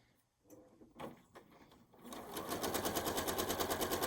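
A sewing machine stitches close to the edge of a folded quilt strip, starting after a few soft handling knocks and then running in a steady, rapid, rhythmic whir near the end.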